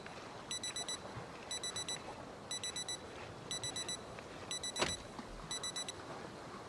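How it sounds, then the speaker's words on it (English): In a survival video game, an alarm beeps in regular rapid clusters, repeating at an even pace, fairly quiet over a low background rumble, with one sharp click near the end. "Alarm is going off, or is that my headset?"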